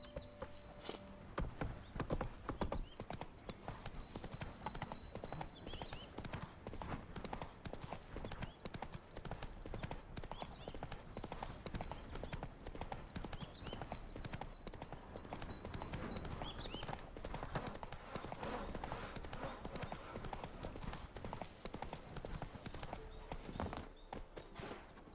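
Roach, a horse in the video game Witcher 3, gallops with continuous rapid hoofbeats over an ambient game soundscape, steady and moderately loud throughout.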